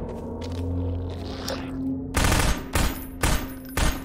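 Submachine gun fire in Half-Life 2, heard as four loud, sharp bursts in quick succession after a stretch of quieter in-game ambience and movement, with no talk over it.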